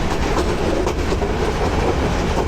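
Mymensingh Express train running on rails at moderate speed, a steady loud rumble with rhythmic clickety-clack of wheels, heard from onboard with no talk.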